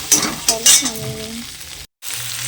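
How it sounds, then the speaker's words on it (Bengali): Onions, tomatoes and green chillies fry together in a hot pan, a steady close sizzle with a few scraping stirs of a spatula, cut by a brief gap near the end. "এই দেখো পেঁয়াজ, টমেটো, কাঁচা লঙ্কা একসঙ্গে ভাজা হচ্ছে, ভাজছে।"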